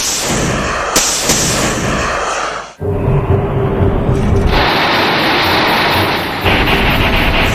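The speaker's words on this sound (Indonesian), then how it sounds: "Kemudian para pasukan pertahanan pun segera mengirim rudal jarak jauh mereka." Defense forces fire long-range missiles at the monster Neronga in an Ultraman episode, producing loud, continuous booming rumbles. A sharp blast cuts off partway and then a dense roar resumes, with no talk.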